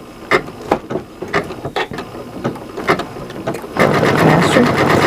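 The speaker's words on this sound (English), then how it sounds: "we're going to go ahead and start the stitching" A sewing machine works on a buttonhole, starting with a few separate short stitching bursts and then settling into a continuous, louder whirring run for the last second or so.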